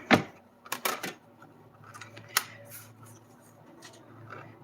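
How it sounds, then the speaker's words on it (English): A die-cutting machine presses flock sheet through a rainbow-shaped die under a top cutting plate, giving sharp clicks and mechanical rasps at the start, then softer rolling and rubbing noises. "I have that rainbow die, top cutting plate, run that through, and it's going to cut out"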